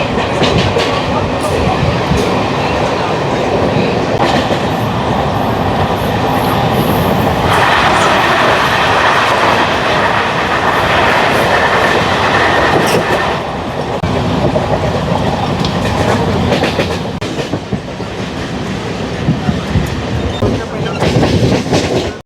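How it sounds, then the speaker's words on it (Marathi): A Mumbai Central Line CSMT–Khopoli fast local train runs at speed, with a loud, continuous rumble and rhythmic clickety-clack of wheels over rails, heard up close from on board. "मी सेंट्रल लाईनची लोकल एवढ्या फास्टमध्ये धावताना बघतोय"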